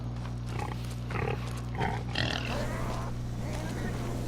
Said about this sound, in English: They're just baby pigs right now.